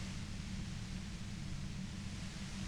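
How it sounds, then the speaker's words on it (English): A compressor in the Disco Elysium video game gives off harsh, violent white noise, a dense, unbroken hiss and low rumble that stays loud and constant throughout, with no voices. "The violent white noise becomes even more overwhelming closer to the compressor."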